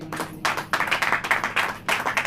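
A church congregation clapping hands during a sermon, rapid rhythmic bursts of claps in short groups with brief pauses between them, close and fairly loud, with no talking.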